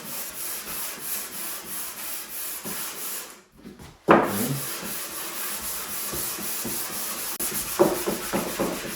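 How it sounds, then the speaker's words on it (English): Sandpaper rubs rhythmically across a wooden mid-century modern dresser, a close scratchy back-and-forth rasp with a brief pause partway through. "The sandpaper is not exactly what I want to use on this."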